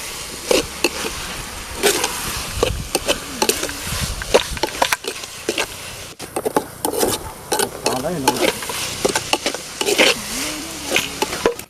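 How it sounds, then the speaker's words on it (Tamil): Greens sautéed in a pan for a turtle curry cooked outdoors in a village, loud busy stirring with repeated clattering scrapes of a spoon over a constant sizzle, no speech. "நல்லா போட்டு வதக்கிக்கணும் கீரையை, அப்புறம் தான் கறியை போடணும்."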